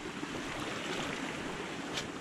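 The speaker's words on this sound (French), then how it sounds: "À côté, il y a un petit ruisseau" A small mountain stream runs down a slope beside a trail, a steady broadband rush of flowing water with no voices.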